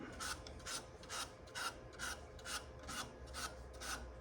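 80-grit sandpaper rasps against a turned wooden lidded canister on the lathe in steady, rhythmic strokes, about two per second, close and fairly loud with no talk.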